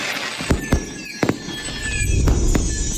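Fireworks go off outdoors with several sharp, separate bangs early on, followed by a denser crackling rumble of bursts that builds and continues, with no talking.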